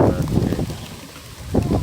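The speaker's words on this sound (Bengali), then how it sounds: "বাতাস" Wind gusting across an open rooftop as rain begins, buffeting the microphone in low, rumbling bursts that swell, ease off and return.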